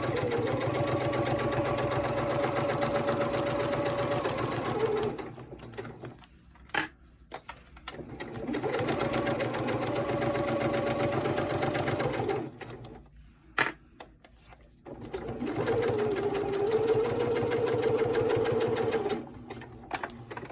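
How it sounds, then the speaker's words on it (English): A sewing machine stitches a cloth diaper seam in three long bursts of steady whirring, each several seconds long and separated by short pauses, close and fairly loud with no talking. "so now that you have this sewn together"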